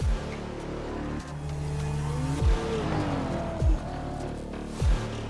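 Gen3 Supercar sliding sideways at Adelaide in a sim racing game, engine droning steadily while tires squeal in long smears and three sharp gear-change or revving spikes punctuate the run.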